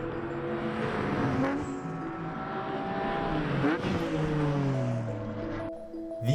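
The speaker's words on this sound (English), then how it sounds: "And BMWs screaming to the heavens and back." BMW race cars at High Plains Raceway, engines screaming and whining through the revs, one loud continuous roar with rising and falling pitch sweeps as the cars pass, a brief drop near the end.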